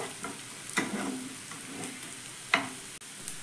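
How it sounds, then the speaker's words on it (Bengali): Whole cumin and black peppercorns frying lightly in oil released from onions, a soft steady sizzle with a few sharp clicks and stirring scrapes, close and fairly quiet, no voices. "এই তেলটা দিয়েই গোটা জিরে আর গোলমরিচটা হালকা একটু ভেজে নেব।"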